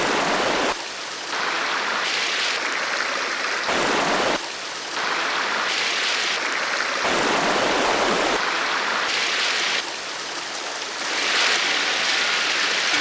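A mountain river in Ladakh rushes steadily with a broad, loud roar of churning water, close by and continuous, with no voices over it.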